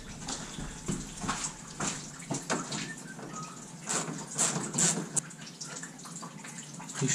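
Coolant drains from a disconnected radiator hose on a 2001 RAM with the 5.9 Magnum engine, a steady close splashing and trickling of liquid with a few sharper drips and splats near the end.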